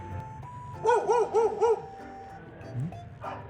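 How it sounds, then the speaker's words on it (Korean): A retriever gives a run of four rising, whining yelps in quick succession, then a short whimper and one more yip, fairly close. "오, 여기도 멍멍이 있어"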